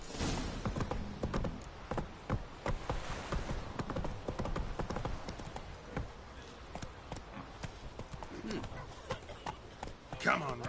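In The Witcher 3 video game, the horse Roach trots with steady, rhythmic clip-clopping hooves that run throughout, partly under voices talking.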